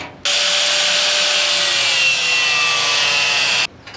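A power cutting tool bites through metal patch pieces for rust repair on a VW bus, one loud sustained grinding whine starting abruptly and stopping after about three and a half seconds.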